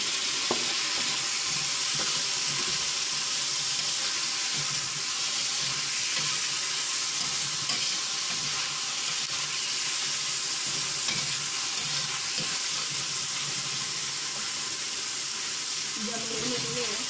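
Tomatoes and three kinds of mushrooms frying in a pan with green paprika, giving a steady broadband sizzle with occasional stirring scrapes, close and continuous throughout.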